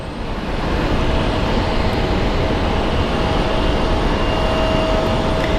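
Boeing 737 MAX airliner preparing for departure at Phoenix Sky Harbor airport, a loud, steady broadband jet engine roar with a faint whine, constant throughout and heard without talk.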